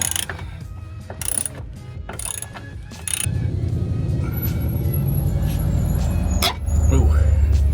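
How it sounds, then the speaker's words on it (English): Nine-sixteenths bolts coming out of a Camaro subframe for subframe connectors: a ratchet clicks in quick bursts, then a steady rapid ratcheting runs close by, ending louder, with faint background noise. "I'm gonna go ahead and get these bolts out, 9/16"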